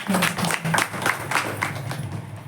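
At a retirement felicitation ceremony for a teacher, an audience claps in a short, dense burst of applause, with some voices mixed in.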